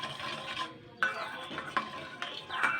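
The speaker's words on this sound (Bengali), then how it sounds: "এটাকে আমি ভালো করে গুলে নেব।" Sugar and salt being dissolved in water for sweet bread dough, a utensil clinking and scraping against the bowl in a few close, irregular strokes.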